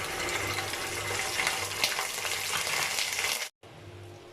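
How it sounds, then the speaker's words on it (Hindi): Garlic and ginger paste dropped into hot oil left from frying onions, a continuous loud sizzling hiss with faint stirring, close up, cutting out abruptly for a moment before the sizzle resumes. "अब इसी ऑयल में मैं लहसुन और अदरक का पेस्ट शामिल कर रही हूँ।"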